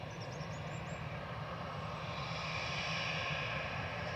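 An EasyJet jet departing Manchester Airport for Belfast makes a distant, steady engine rumble that swells slightly toward the end. Faint bird chirps are heard early on.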